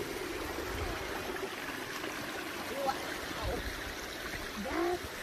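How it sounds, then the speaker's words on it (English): Steady broadband rush of a small creek flowing through a Norwegian forest, a continuous near water sound with faint trickles and small splashes layered over it. "So this is the water creek"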